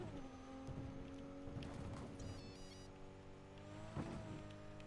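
A fast car in Cyberpunk hums along with a sustained engine tone that rises gradually, a brief burst of impact noise near the end, moderately loud and close.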